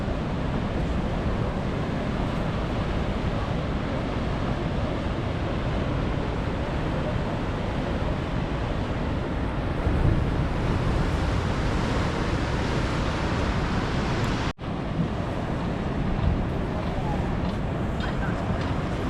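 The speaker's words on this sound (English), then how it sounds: "Look at the wave. The sea is so strong." Strong sea waves on the Casablanca coast, a continuous heavy roar of surf and wind that stays loud and broadband throughout, with a brief dropout near the end; a voice may be faintly present beneath the noise.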